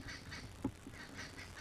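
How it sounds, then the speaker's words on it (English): Agitated birds in a tree call out at eagle owls, repeating faint, distant, nasal honking calls at a steady pace with no talk over them. "we've got these birds that get very upset when the eagle owls are in the tree"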